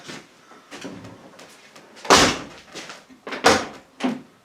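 An Opel Kadett's door is opened and shut repeatedly after a handle repair, giving a series of clunks and latch clicks, with two sharp, loud slams standing out among softer handling noises.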